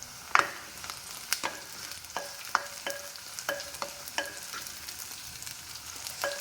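Onion fries in a pan for a Kerala-style okra curry, giving a soft, steady sizzle broken by a regular series of sharp spoon scrapes and taps as it is stirred, with no one speaking.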